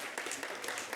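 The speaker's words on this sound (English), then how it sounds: "So please give him a round of applause." Brief burst of audience applause at the Cellal Africa 2025 fundraising event, many hands clapping in a dense, faint wash heard from a distance.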